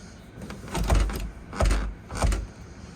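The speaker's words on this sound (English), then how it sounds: "Little red handle lifts up, pulls all the way through the bottom of the window frame." An emergency fire escape window in the master bedroom of a used 2018 Forest River Cherokee Grey Wolf 29TE travel trailer is worked open by its red handle, giving three loud rattling thumps about two-thirds of a second apart.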